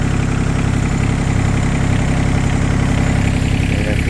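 A 2022 John Deere 17G mini excavator engine idles steadily after an oil change, a close, loud, even low rumble running throughout with no talk.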